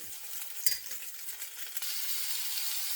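Pork chops fry in a pan for a weeknight dinner, a steady close sizzle and crackle that continues throughout, with a few light clinks and taps from the pan.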